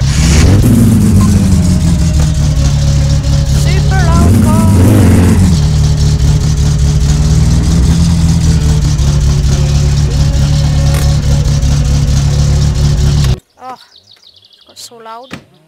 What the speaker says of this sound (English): Alright, let's drive the car in.